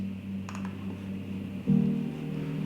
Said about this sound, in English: So we have our main piano, which sounds like this.